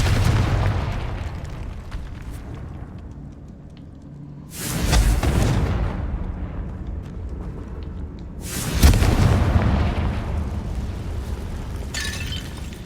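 Confringo spell explosions in the Hogwarts Legacy video game: two loud, booming blasts a few seconds apart, each fading out slowly over a low background rumble.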